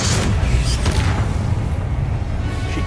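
A Confringo spell blast in the Hogwarts Legacy video game, a loud, dense explosive boom with a rumbling low tail that fills the whole moment without pause.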